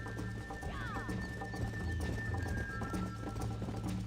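Rhythmic hoofbeats of a galloping horse in the video game Red Dead Redemption on PS4 run steadily throughout, with a short whinny near the start.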